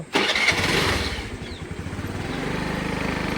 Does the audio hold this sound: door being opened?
no